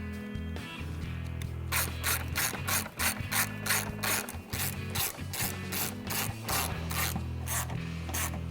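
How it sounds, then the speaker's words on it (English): A hand ratchet tightens the headlight bolts on a 2009-2014 Ford F150 during a projector headlight install, its pawl clicking in about fourteen quick, even strokes close by over a low background hum. "and then take the ratchet."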